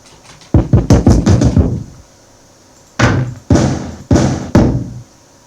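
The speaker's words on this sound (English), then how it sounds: "Let's try that knock one." Knock sample triggered in a simple beat during live music production: a quick burst of several sharp knocks, then a pause, then four spaced, punchy knocks, dry and loud.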